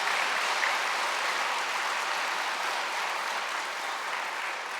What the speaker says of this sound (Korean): 한 번 더 크게 박수 쳐주세요.